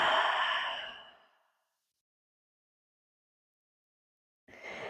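A long audible exhale during a beginner yoga stretch, breathy and close, fading out over about a second, followed by silence and another breath starting near the end.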